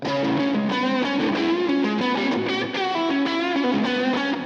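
Distorted electric guitar, a Gibson Custom Les Paul with a Floyd Rose played on the neck pickup without coil split, plays a thick, driven riff with sustained chords, loud and continuous with no talking.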